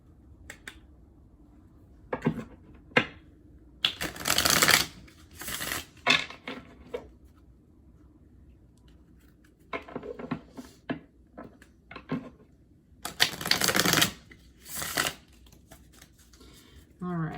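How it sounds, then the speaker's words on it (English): A Rider-Waite tarot deck being shuffled in several loud riffling bursts, close up, between stretches of quiet talking. "that was a loud shuffle"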